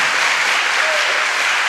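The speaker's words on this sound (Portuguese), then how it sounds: "Vamos dar uma salva de palmas para o Senhor Jesus, bem forte" A church congregation gives a loud, vigorous round of applause during a worship service, a thick continuous roar of clapping at full strength from start to finish.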